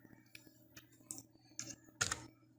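A computer keyboard being typed on, with a handful of sharp, irregular key clicks and taps, quiet and close, separated by brief pauses with no speech.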